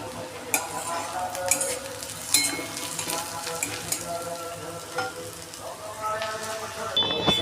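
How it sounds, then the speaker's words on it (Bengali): Onions fry until reddish-brown in a pan, giving a lively crackling sizzle broken by repeated scraping stirs and clinks, loud and close, with no talking. "পেঁয়াজটা লাল লাল করে ভাজা হয়ে গেছে"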